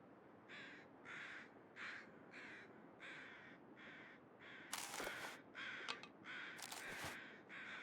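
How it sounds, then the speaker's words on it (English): Crows caw outside along a wintry coastal highway in The Long Dark, a steady series of evenly spaced harsh calls, joined midway by sharper, louder clattering bursts. "You know, those crows, shut up."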